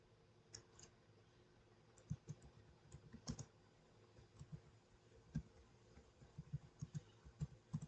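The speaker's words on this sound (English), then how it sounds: "I'm gonna type this." Someone types on a computer keyboard in a quiet room, making soft scattered clicks of the keys that come in small irregular clusters and grow busier toward the end.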